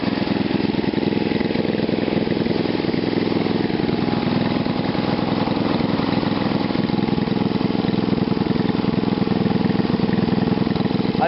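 A small engine fitted with a short GEET fuel reactor idles steadily up close, giving a continuous, even, loud drone with no voices over it.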